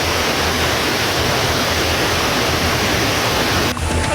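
Floodwater from the overflowing Tuntang River in Grobogan, Central Java rushes across a flooded road as a loud, dense, unbroken roar that holds steady throughout, with no voices.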